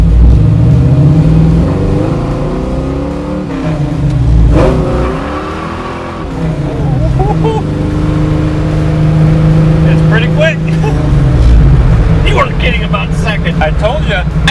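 A 1968 Chevrolet Camaro SS V8 accelerating at about half throttle from inside the car, a loud deep engine roar rising and falling through a gear change, with people talking over it.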